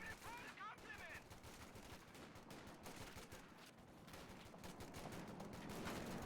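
In Company of Heroes 2, a Pak 40 anti-tank gun fires at a .50 cal machine gun position amid rapid rattling gunfire bursts and dull booms, with a voice talking faintly underneath.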